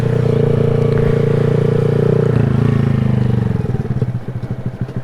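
A 2020 Honda Grom motorcycle engine pulls in first gear on an early morning street ride, a steady close droning hum that shifts pitch midway, then breaks into choppier, pulsing putters as the revs fall off.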